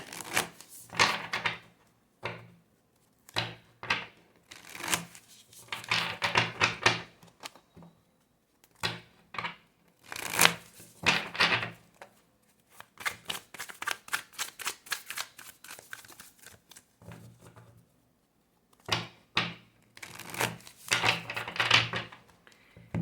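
Tarot cards are shuffled and dealt in a run of soft papery riffles and flicks, coming in short irregular bursts with brief pauses between them, close and fairly quiet.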